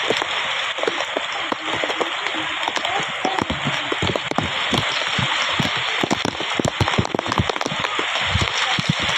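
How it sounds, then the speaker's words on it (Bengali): Rain falling steadily outdoors while people bathe in it, a dense, even patter of drops with scattered louder splashes throughout. "দেখো আমরা সব বৃষ্টিতে স্নান করছি, জোর মজা লাগছে।"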